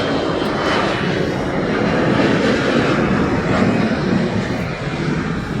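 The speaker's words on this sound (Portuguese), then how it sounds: "Aí, só o avião passando." An airplane passing overhead near an airport, a loud, continuous engine roar with broad rumble and whine that holds steady and swells slightly before easing, no talk.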